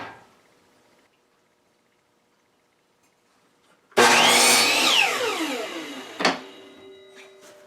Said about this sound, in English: Do them at the miter saw.